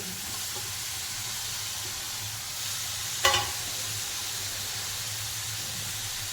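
Ginger-garlic paste, onion and tomato fry in a pan with a steady low sizzle and hiss, broken once by a brief sharp scrape of stirring midway.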